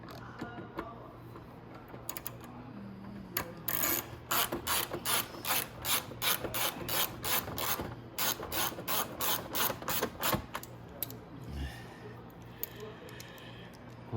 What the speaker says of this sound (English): now we can go ahead and put our bolt back in here